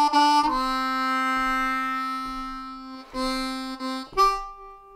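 A C harmonica playing a slow, low 12-bar blues lick, sustained draw notes sliding between a few pitches with short breaths between phrases, close and alone.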